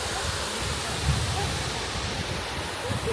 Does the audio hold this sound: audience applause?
no